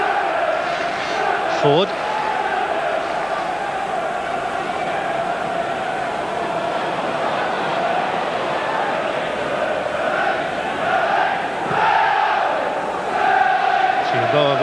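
A packed football crowd at a Leeds United v Blackburn Rovers League Cup fourth-round match in 1995 keeps up a steady roar and swell of noise, while a commentator talks over it.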